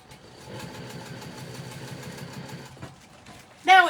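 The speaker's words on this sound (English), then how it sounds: "I'm going to test stitch so I don't ruin my project." A sewing machine runs a test stitch while sewing a fabric pouch, whirring in a quick, even stitching rhythm for about two seconds before stopping, then a short burst of voice.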